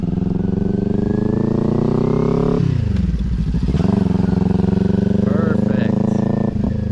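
A beginner rider's motorcycle engine hums steadily, then dips and rises again as she rolls on the throttle, a close, loud engine note with someone talking over it.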